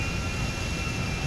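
Airbus A350 XWB jet engines in a GTA 5 mod, a steady broadband roar with a faint high whine, continuous and fairly loud throughout the short stretch with no talk.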